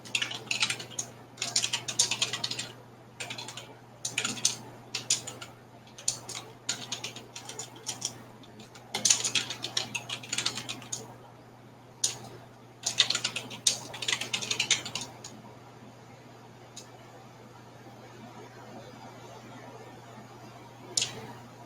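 Someone types a chat message on a computer keyboard, with rapid irregular clicking keystrokes in clustered bursts over a steady low hum, fading to near silence toward the end.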